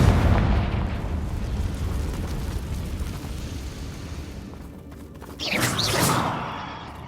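A Confringo blast spell fired in Hogwarts Legacy on PS4 sets off a booming explosion near the end, rising from a steady low rumble of game ambience into a loud, crackling burst that slowly fades.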